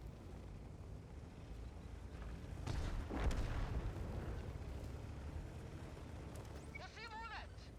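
Tank cannon shots in World of Tanks, a booming gunshot with rumbling aftermath over continuous engine and battle noise, followed by a brief metallic ringing near the end.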